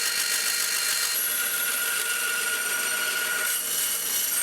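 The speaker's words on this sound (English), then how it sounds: "I'm gonna cut our slot. I think a bandsaw cut will fit it." A bandsaw cuts a slot into an aluminum knife scale, a steady high-pitched rasping whine that holds continuously and fairly loud throughout, with no voices.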